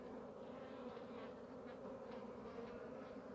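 Dense, steady buzzing of many honey bees swarming close by, a continuous droning hum with no pauses.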